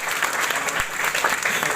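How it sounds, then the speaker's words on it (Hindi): An audience at a free competitive-exam event in India claps in a dense, steady burst of applause, close and sustained. "एक बार जोरदार ताली होगी।"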